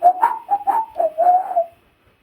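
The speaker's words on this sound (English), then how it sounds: "He's just whistling casually." A staff member in a Hilton advert whistles casually, a short clear melodic phrase of about six notes, close and fairly loud, ending in silence.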